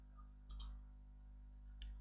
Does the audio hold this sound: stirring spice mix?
no